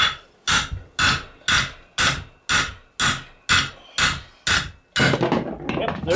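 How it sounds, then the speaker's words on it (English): A hammer strikes metal ten times in an even rhythm, roughly twice a second, loud and close, knocking out a worn ball joint, followed by a clattering rattle. "I think I can just take a hammer and knock the rest of that out there."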